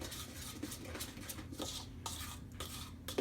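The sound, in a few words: spoon stirring powdered mix into milk in a bowl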